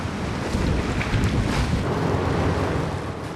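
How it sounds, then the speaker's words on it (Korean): Rough Mediterranean sea at a Malta tuna fish farm gives a steady broadband roar of waves and gusting wind buffeting the microphone, continuous and loud with no voices. "점점 더 거칠어지는 파도가 걱정이네요"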